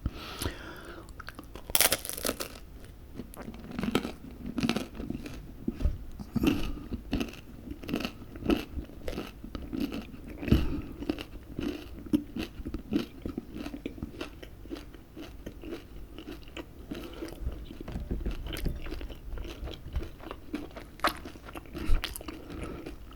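Close-up chewing of a ham, mushroom and mascarpone pizza with crunchy crust: continuous moist bites and crunches repeating steadily throughout.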